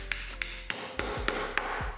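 A hammer strikes the back of a knife cutting meat on a cutting mat, giving six sharp, evenly spaced taps at close range over a low hum.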